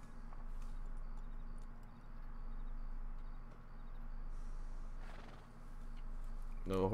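A horse in the video game Red Dead Redemption 2 whinnies and its hooves clop, mostly faint under game ambience and background noise, with a louder sound at the very end.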